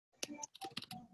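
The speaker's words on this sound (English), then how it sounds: "Exciting watching me type here." Quick, irregular keystrokes on a computer keyboard, a short burst of close, crisp taps with no talking.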